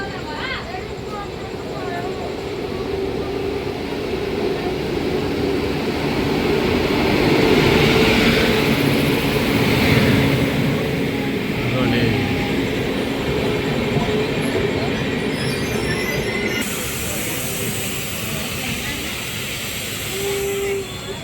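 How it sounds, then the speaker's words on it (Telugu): Lingampalli Intercity Express passing slowly at a red signal, a steady close rumble of rail cars and wheels on track with faint squeal, continuous for the whole stretch, with voices faintly underneath. "ఇదిగోండి గాయస్ వస్తుంది చూడండి, లింగంపల్లి ఇంటర్సిటీ ఎక్స్ప్రెస్."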